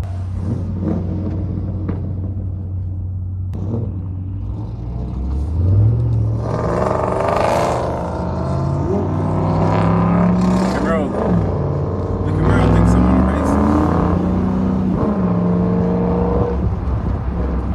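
Supercharged Hellcat V8 of a 2022 Ram 1500 TRX truck roaring as it accelerates, with deep rumbling engine revs rising and falling in waves up close while people talk over it.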